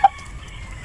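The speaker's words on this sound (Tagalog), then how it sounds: "Yung Rhode Island natin na rooster, ang laki." Free-range heritage chickens and a large Rhode Island rooster make a single short, sharp cluck near the start, followed by faint farmyard background.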